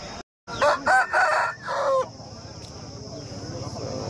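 A rooster crows loudly and close by at a country-chicken market, one drawn-out call broken into rising and falling segments, followed by a low steady background hum.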